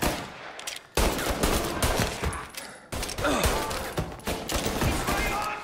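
Gunfire in the Mafia video game, with bursts of repeated shots and sharp cracks broken by brief gaps, loud and close, while faint voices are heard underneath.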